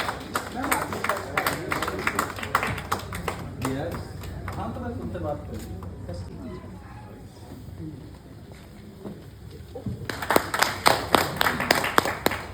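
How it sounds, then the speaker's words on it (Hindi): Audience applause at a retirement celebration, a crowd clapping in bursts that fade during a quieter stretch and swell again loudly at the end, with voices talking throughout. "आप जोरदार तालियों से स्वागत करें"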